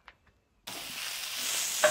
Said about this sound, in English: I hope you can hear me over this sizzling of the veggies.